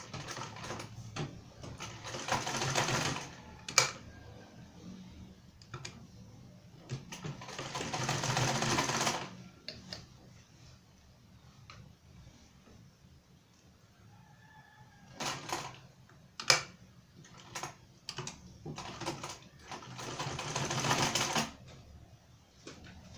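A sewing machine stitches a two-piece standing shirt collar in several separate bursts of rapid mechanical chatter, each lasting a few seconds, with quiet pauses between runs, close and fairly loud.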